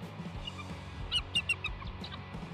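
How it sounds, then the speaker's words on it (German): A bald eagle at its nest gives a short run of high, thin chirping calls, fairly faint over a low background rumble, with a few quick notes clustered in the middle. "Here's a bald eagle calling for backup after a fox tries to invade the nest."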